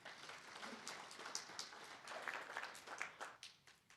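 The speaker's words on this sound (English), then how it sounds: "Let's give them a round of applause." Audience applause at the launch of a national disability policy, steady clapping from a gathered crowd with no voices over it, faint and distant-sounding throughout.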